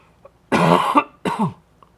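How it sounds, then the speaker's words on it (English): Two sharp, close coughs in quick succession, the first longer and harsher, the second shorter, with quiet moments before and after. "Excuse me with my lingering cough here once in a while."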